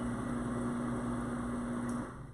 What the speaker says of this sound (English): So it's gonna heat for a minute, and then it's going to blend, as you can see.